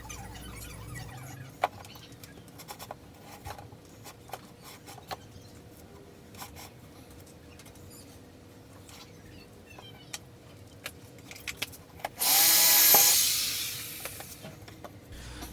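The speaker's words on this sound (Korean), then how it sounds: "지금 구멍을 뚫고 있는" A hole is drilled with a drill chuck and tailstock on a homemade woodworking lathe. After quiet scattered clicks, a loud, harsh grinding burst of about a second and a half bursts out near the end.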